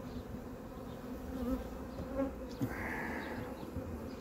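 Dense, continuous buzzing of a honeybee swarm being caught in the UK, many bees humming together at moderate distance with occasional louder passes of individual bees flying near.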